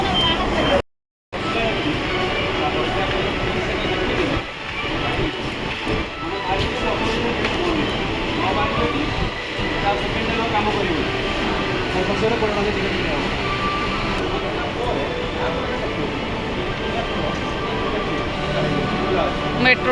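A metro train runs near Howrah, a loud, steady rumble and rattle of wheels and carriages lasting throughout, with a brief cutout near the start.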